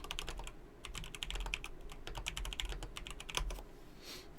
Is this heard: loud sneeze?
no